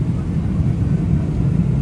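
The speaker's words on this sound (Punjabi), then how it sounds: "ਉਹ ਜਹਾਜ਼ ਹੋਣ ਲੱਗਿਆ ਲੈਂਡ ਥੱਲੇ ਆ ਰਹੇ ਆ" Passenger airplane descending to land at Phuket, heard from inside the cabin as a steady, loud low-pitched engine and air roar with no break.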